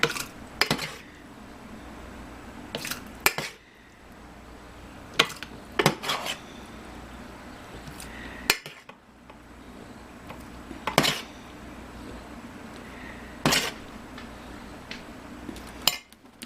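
Glass canning jars clink and clatter as they are set into a canner while canning ground chicken, a series of sharp, separate knocks spaced a few seconds apart over a quiet kitchen background.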